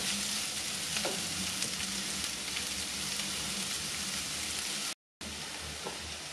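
Onions sautéing in a pan for Tamil urulai kilangu bonda give a steady, close, dense sizzle with faint scraping. There is a brief dropout near the end, and no voices.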